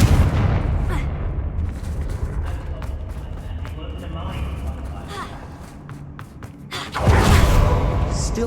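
A Confringo blasting spell goes off in Hogwarts Legacy, booming explosions and crackling magical bursts layered over game ambience, with a big loud blast near the end.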